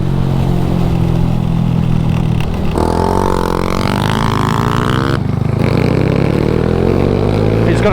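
Honda DAX motorcycles moving from tarmac onto gravel, small engines droning loud and close with shifting pitch as they accelerate, steady rough noise throughout.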